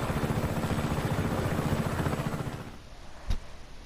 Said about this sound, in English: You can take this chopper, Fratre.